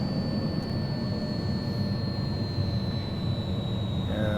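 An x737 jet airliner in a flight simulator drones steadily through its descent toward Salt Lake City, a constant close engine roar with a thin high whine running over it and no talk.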